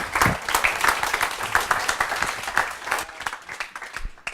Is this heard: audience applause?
yes